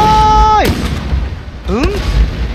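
Cannon fire in the Shogun 2 strategy game, loud booming blasts over continuous battle noise, with a shouted voice at the start and another call later.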